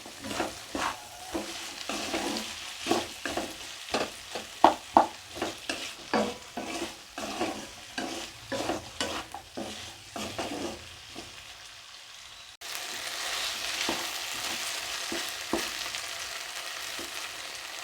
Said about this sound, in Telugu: ఇలా ఫ్రై అయితే సరిపోద్దండి.